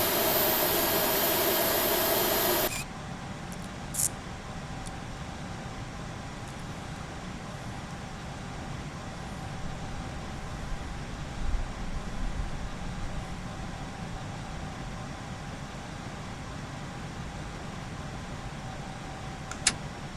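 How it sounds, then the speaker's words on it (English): Airliner jet engines idle while the aircraft taxis in the Prepar3D flight simulator, a steady low whine and rumble that holds on evenly after a louder burst of noise at the start cuts away. "So engines are at idle because we already have the inertia necessary to do the rest of taxiing."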